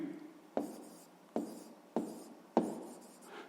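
A pen writes out a math solution in four quick strokes, each starting with a sharp tap and fading into a soft scratch, heard close and alone.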